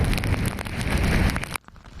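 Heavy typhoon rain pours down in Chiayi County, a dense, steady roar of water with gusting noise, loud and continuous before cutting off abruptly near the end.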